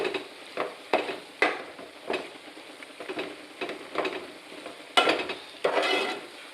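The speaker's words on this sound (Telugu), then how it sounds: "ఒకసారి అయితే బాగా కలుపుదాం ఫ్రెండ్స్." Spoon stirring potato curry just after a spoonful of ginger paste is added, giving a run of scraping, clinking strokes in an irregular rhythm over a soft background sizzle. The strokes are close and moderately loud, with no talk.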